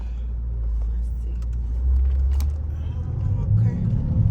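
A Mercedes-AMG GT63 S with all-wheel drive in race mode gives a steady low engine rumble and road drone from inside the cabin, swelling slightly as it accelerates.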